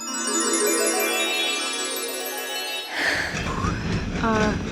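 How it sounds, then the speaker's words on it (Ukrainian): Inside a moving passenger train, a steady rumble and tonal whine from the carriage carry on for about three seconds, then shift to a rougher, noisier rattle and hiss as the ride continues, with no voices. "Зараз той самий момент, коли я сіла у потяг"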